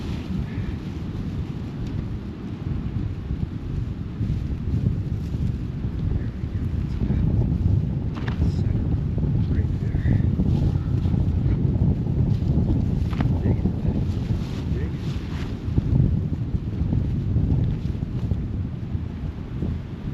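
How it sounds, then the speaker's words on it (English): Strong wind buffets outdoors at a cold survival campsite in upstate New York, a continuous heavy roar with gusting surges for about twenty seconds, loud and close on the microphone with no talk. "This is tough in the wind."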